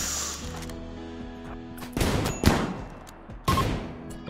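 Colonists shooting in the video game RimWorld: a few sharp, loud gunshot bursts ring out one after another about half a second to a second apart, following a quieter opening.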